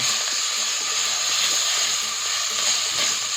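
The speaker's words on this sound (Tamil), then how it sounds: "கழுவி வச்சுருக்கிற ஒரு கைப்பிடி கீரை முடக்கத்தான் கீரை அதையும் போட்டு நல்லா வதக்கி விடுங்க" Mudakkathan keerai greens sautéed with dried red chillies in a pan, giving a loud continuous steamy hiss and sizzle close up, steady throughout with faint stirring and no talk.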